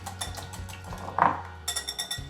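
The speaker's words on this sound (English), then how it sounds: "So we're gonna mix this all up." Low carb chocolatey brownie ingredients mixed in a bowl make close scraping and clinking of a utensil against the dish, with a brighter knock midway and a flurry of clinks toward the end.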